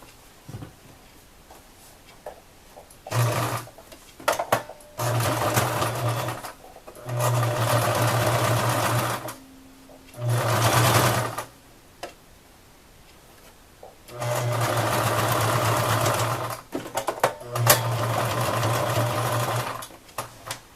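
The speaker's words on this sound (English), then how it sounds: "I'm folding over my lace, and I'm going to sew on my lace first." Sewing machine stitching white lace onto the lining of a Tunisian wallet, running in several loud close bursts of steady buzzing separated by pauses, with no talking.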